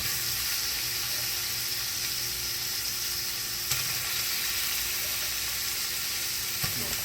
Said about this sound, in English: we're going to add this meat because I want to scorch this up just a little bit